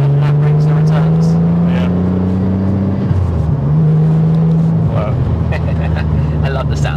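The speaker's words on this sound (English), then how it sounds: "I love the sound of this car." Steady car engine hum that rises and dips as it revs, loud and close throughout, with a voice speaking over it.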